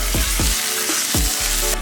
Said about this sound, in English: As the onion continues to caramelize, we're gonna add in our minced garlic.